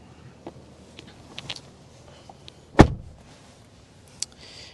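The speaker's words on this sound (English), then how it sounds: "Shutting up the door." A rear door on a 2025 Nissan Armada Platinum shuts with one solid, loud thunk in a quiet setting, followed by a short rumble, a few faint clicks before it and a sharp click after.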